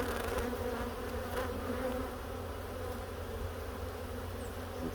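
Honey bees, likely nurse bees, buzz steadily inside a jar during a sugar roll mite count, a quiet, continuous hum with a soft edge and no pauses.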